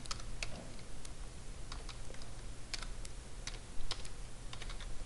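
Quick, light computer keyboard keystrokes tap in an uneven run over a constant low background hum, with no speech.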